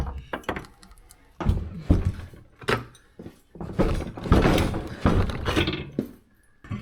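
A metal side mirror bracket clamped in a vise gets twisted: a series of sharp clanks, clinks and scraping knocks at irregular intervals, close and moderately loud, with brief quiet gaps between bursts.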